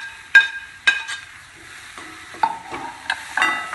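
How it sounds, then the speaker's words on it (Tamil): Tomatoes added to onions frying in a pan for kappakilangu masala dosa, a soft steady sizzle broken by about eight sharp metallic scrapes and clinks of a stirring spoon, close and without talk. "இப்போ வந்து நம்ம தக்காளி போடணும்."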